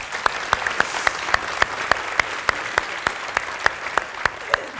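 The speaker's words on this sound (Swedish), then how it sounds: "Kan vi inte ge Johanna en varm applåd" An audience gives warm applause for the moderator of a heritage-board conference day, with steady clapping and sharp individual claps standing out near the front, and no speech over it.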